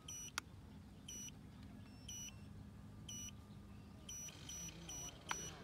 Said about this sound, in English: We can hear beep